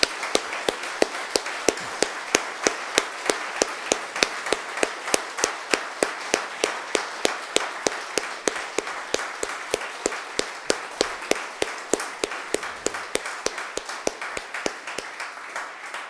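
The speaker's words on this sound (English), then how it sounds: "give another big round of applause to Mahmoud Zawahra" A conference audience claps in unison for a speaker on settler colonialism in Palestine, sharp, evenly spaced claps repeating at a brisk steady rhythm for a long stretch, loud and close.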